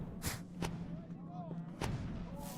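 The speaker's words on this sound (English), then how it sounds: "Which is why they're sitting here shooting fireworks off." Fireworks being set off in the online game The Lord of the Rings Online, several sharp booming bursts spaced a second or so apart, moderately distant, with faint whistling tones between them.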